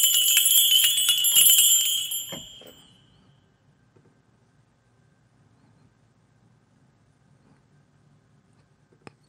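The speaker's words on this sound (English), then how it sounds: "Small bells." Small bells ring and shimmer brightly for about two seconds, then decay into near silence with a faint low hum and a soft tick at the end.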